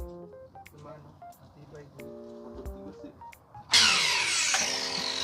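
A power drill bores a hole in hard cement for a screw, starting abruptly partway through as a loud, harsh grinding roar that continues to the end. Quieter tonal background sounds come first.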